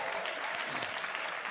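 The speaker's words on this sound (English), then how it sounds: "give them a special round of applause" A steady round of applause from a seated audience at an artist showcase, continuous and fairly loud from start to finish.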